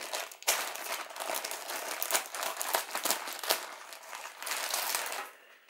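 A parcel of cerium oxide ordered from China is opened, with packaging crinkling and rustling in close, continuous bursts and sharp crackles throughout, no voice over it.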